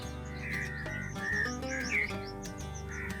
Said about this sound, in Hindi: परिंदे दरख्तों पे चहचहा रहे हैं।